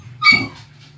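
A dog indoors gives a single short whimpering yelp that rises into a brief bark-like cry, close and fairly loud, then fades over a low steady background hum.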